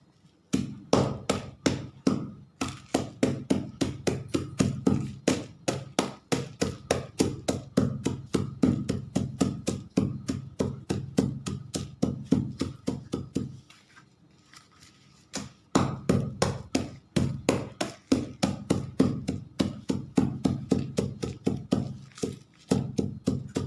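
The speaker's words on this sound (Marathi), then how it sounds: "एवढी तुरटी ना ती फोडून घ्यायची पूर्ण" Pieces of alum are pounded into powder with rapid, regular thudding blows, close and sharp, running in long bursts broken by a brief pause midway.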